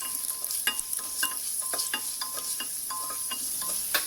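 Sliced garlic and dry chilies sizzle and fry in a pot while being tossed, with a steady hiss and repeated light scraping and stirring clicks, close up and without any talking.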